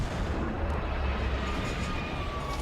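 Heavy artillery fire rumbles in a Star Wars Clone Wars episode, a dense, continuous, loud roar of battle noise with no clear separate blasts and no voices.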